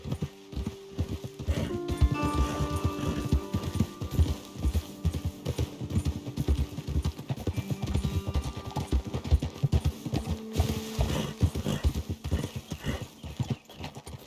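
Horses being ridden clip-clop at close range in a steady, busy rhythm of hooves, several animals together, with a brief whinny and no talking.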